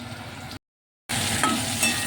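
Steady sizzling of onions, chillies and spices frying in oil in a hot pan with scraping and stirring, broken by a brief moment of silence before the frying resumes.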